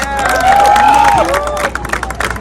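Crowd cheering and applause at an outdoor Indian Independence Day flag hoisting in Times Square, New York, loud and sustained with whoops and a rising tonal shout over the clapping, then thinning toward the end.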